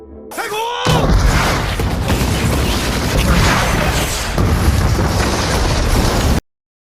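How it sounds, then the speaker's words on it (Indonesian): A bazooka attack by soldiers in a film erupts into a loud, sustained roaring blast with rumbling debris, filling several seconds after a brief quieter lead-in. "para tentara menyerang dengan menggunakan bazooka"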